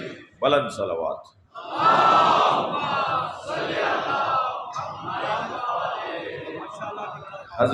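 A mosque congregation at a religious gathering loudly chants salawat in unison, a swelling mass of voices after a short lead-in, close and sustained.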